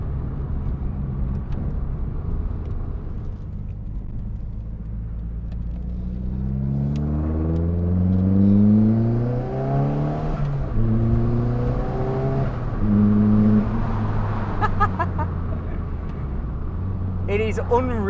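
Nissan Pulsar GTi R, a rare 230 bhp hatchback around thirty years old, accelerating hard through the gears with rising engine revs and gear-change drops, loud and close throughout.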